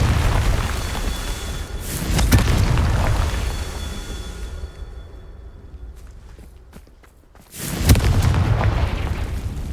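Confringo blasting spell explosions in Hogwarts Legacy, two loud booming blasts a few seconds apart with rumbling debris between them, alone without talk.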